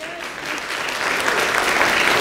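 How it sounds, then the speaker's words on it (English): A crowd claps together in sustained, dense applause that swells slightly louder toward the end, with no talking over it. "give the Lord your victory clap right now"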